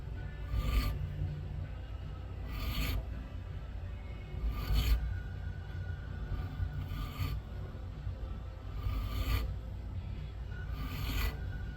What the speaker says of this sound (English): Lay everything out with your clamps and your square, and then just file to the lines.